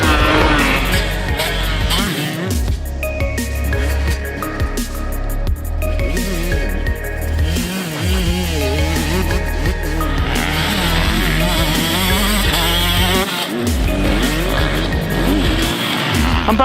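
A 2019 KTM 150SX two-stroke motocross bike revs loud and close as it is thrown around corners, with the engine pitch rising and falling constantly and a few brief cutouts between throttle bursts.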